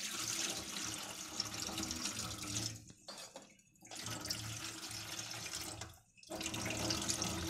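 Rice being rinsed under a cold running tap in a kitchen sink, a steady close hiss of flowing water broken twice by brief pauses, with no talking.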